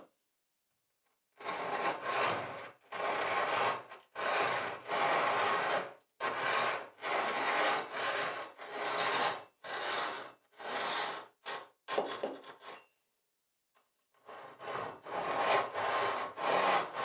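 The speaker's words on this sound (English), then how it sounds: "Scoring the wood helps to guide the saw blade on your cut lines." A hand saw cuts into wood along a scored layout line while shaping a wooden cleat, with repeated rhythmic rasping strokes, a brief pause near the end and then steady sawing again, close and clear.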